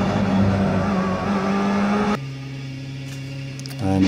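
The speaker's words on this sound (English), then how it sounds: "that great feeling of speed this car gives you, the grunt from the engine" Open-wheel race car engine in the iRacing sim racing game, a loud sustained engine roar that drops abruptly to a lower steady note, then rises again near the end.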